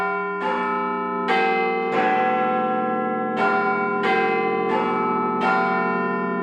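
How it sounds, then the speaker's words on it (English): Big Ben's deep bell strikes repeatedly in central London, loud and resonant, each stroke ringing out with a long decaying hum that overlaps the next in a slow, uneven rhythm. "Big Ben chimes on the hour, every hour, and it's known for its accuracy"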